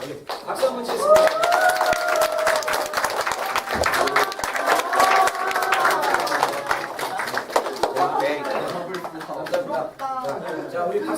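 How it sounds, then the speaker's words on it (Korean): A church congregation at a Sunday service breaks into applause, dense rapid clapping that stays loud for several seconds before thinning out, with voices mixed in. "박수 한번 치겠습니다."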